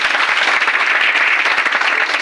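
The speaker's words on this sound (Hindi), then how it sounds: "एक बार जोरदार तालियां" A seminar audience bursts into a steady, loud round of applause, dense overlapping clapping sustained evenly from start to finish with no talk over it.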